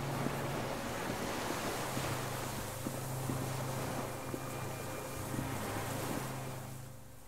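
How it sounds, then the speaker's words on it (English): Steady wash of water and wind over a harbor in a video game, with a low droning tone running underneath, like distant cargo ship horns echoing across the water; no talking. "The distant sound of cargo ships, signal horns echo on the water."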